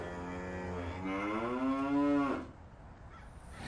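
A single cow in a grazing paddock lets out one long, rising moo, loud and close, trailing into quiet field ambience with no talking.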